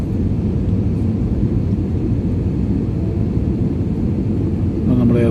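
A passenger jet touching down on the runway at Boston airport, heard from inside the cabin as a loud, steady low roar and rumble that swells slightly near the end.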